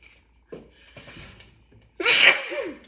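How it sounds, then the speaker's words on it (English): A person sneezes once, sharp and close, after a couple of short breathy sounds and a quick intake of breath. "I don't know how to edit well enough to sneeze, to get the sneeze out."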